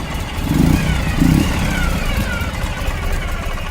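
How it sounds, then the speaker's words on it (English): A fuel-injected 2013 Ural Gear Up motorcycle engine cranks with two short bursts, then settles into a steady mid-pitched running drone, close and fairly loud, with no voices. "Try to start a fuel-injected engine like that."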